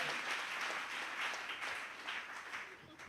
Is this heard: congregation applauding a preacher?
yes